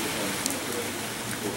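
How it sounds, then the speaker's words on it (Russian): Rain falling in Central Park, a steady close hiss of drops with no other sounds standing out. "И дождь идет, и желтое"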